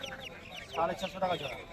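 A few silkie hens cluck softly in short bursts amid a noisy outdoor market background, with faint voices nearby.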